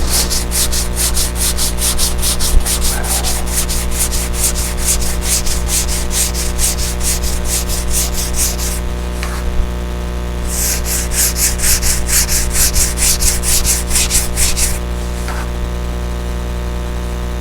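Hand sanding works down a raised lump on a surface, giving a continuous close scratchy rasp made of rapid back-and-forth strokes, with a short pause midway before the strokes resume.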